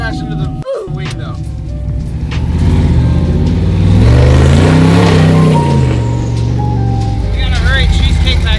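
Truck engine revving and accelerating, idling roughly at first, then climbing into a loud, sustained roar that rises and holds before easing slightly, close and dominant throughout.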